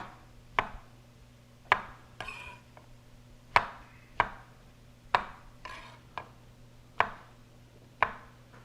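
Knife quartering mushrooms into big chunks on a cutting board for chicken cacciatore: about ten crisp, close chops at an uneven pace, each a sharp knock with a brief scrape, over a low steady hum.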